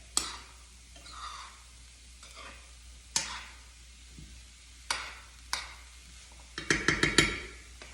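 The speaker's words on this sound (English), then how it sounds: "now while the veggies are sauteing" Vegetables sautéing in a full pan, with a soft steady sizzle under intermittent scraping stirs, ending in a quick run of sharp metallic clinks close by, with no talking.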